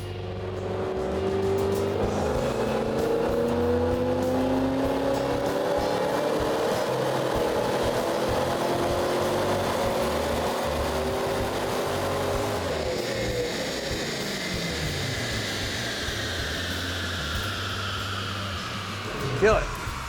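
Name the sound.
Shelby Mustang engine running on dyno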